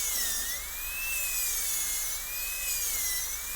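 A high, whining dental drill burr cuts into a tooth during a Class II slot preparation, its pitch wavering slowly as load changes, close and continuous with no talk.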